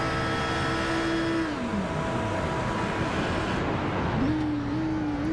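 Onboard an esports race car at Monza, the engine drones steadily at high revs, then drops away as the driver lifts and coasts for a few seconds before picking back up to a steady pitch, loud and close.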